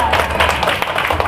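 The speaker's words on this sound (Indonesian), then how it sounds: "tepuk tangan untuk muslimat" Brief burst of audience clapping for the Muslimat women at a village gathering, a short, moderately loud patter of many hands with some voices mixed in.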